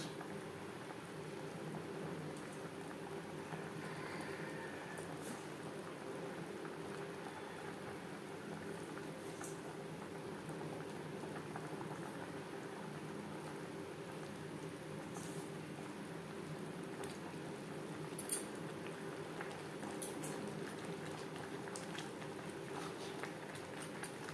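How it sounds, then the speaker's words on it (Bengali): Fish curry gravy made with bata fish and green banana simmers at a steady boil in a pan. The bubbling is soft and continuous, fairly quiet and alone throughout. "গ্রেভি বেশ ভালো করে ফুটতে শুরু করে দিয়েছে"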